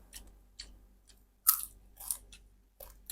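Chewing on pickled bamboo shoot curry with pork bones, a series of close, crisp bites and crunches separated by short quiet pauses, with no talking.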